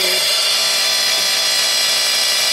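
A machine blade cutting for a clean first edge, a loud, steady high-pitched whine from start to finish.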